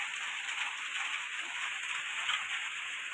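Steady rain falls, a dense, even patter of drops hitting a surface that holds the same level throughout with no voices.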